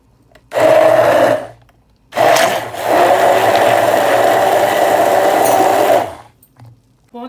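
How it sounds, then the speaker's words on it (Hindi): A hand blender whirs loudly in two bursts, a short one then a longer steady run, its motor pitch wavering as it mixes pina colada liquid. "यहाँ पर मेरे पास हैंड ब्लेंडर है तो मैं उसके ज़रिए करूँगी।"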